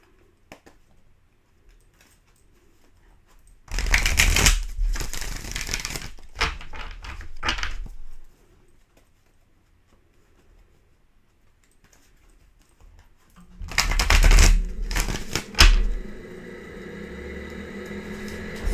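Two bursts of crisp riffling and slapping as tarot cards are shuffled, separated by a quiet pause, with faint clatter afterward.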